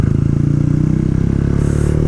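A Yamaha YZF R125 motorcycle idling close by after a test ride, its small single-cylinder engine giving a loud, steady, rapid low thrum with slight mechanical clatter, no voices.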